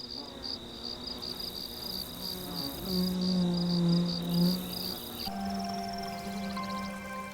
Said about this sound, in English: irritating flies are buzzing about